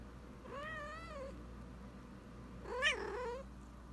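A pet cat meows twice, each a drawn-out, rising-and-falling call separated by a short pause, close and clear over a quiet room.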